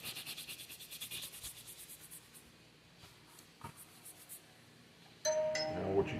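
A brush buffs a leather Brauer Brothers H-style holster during restoration, making rapid, rhythmic scratchy rubbing strokes up close that fade out, followed by a few soft knocks and a sudden louder handling noise.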